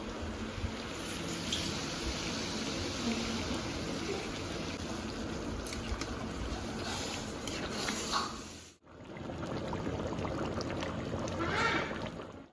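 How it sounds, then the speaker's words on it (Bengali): Hot water poured into chicken curry cooking in a pot, a steady rushing, trickling stream that runs for several seconds, breaks off briefly, then resumes. The sound is fairly close, with no clear talking. "আমি এবার একটু গরম জল দিয়ে দেবো"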